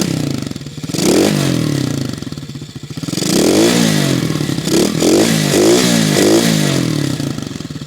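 Tao DB14 110cc dirt bike engine revved with the throttle, loud buzzing rises and falls in pitch through repeated blips, close and alone.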